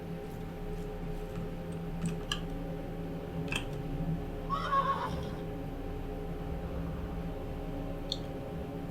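A horse in the video game Mortal Online 2 gives a single short whinny midway through, over a steady low ambient hum with a few faint ticks and clicks.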